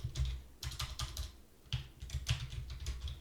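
Fast, quiet typing on a computer keyboard, irregular clusters of key clicks with short pauses between them, close up and without speech.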